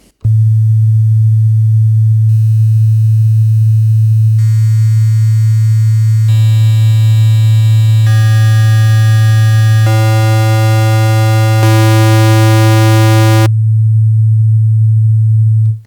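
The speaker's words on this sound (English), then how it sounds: "I'll scroll through those so you can hear how reducing the bit rate of the sine wave affects the sound" A loud, steady low synth sine tone with bit rate progressively reduced holds throughout, growing harsher and buzzier with stepped bursts of gritty overtones before returning clean.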